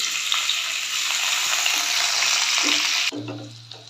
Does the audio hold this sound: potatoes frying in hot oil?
yes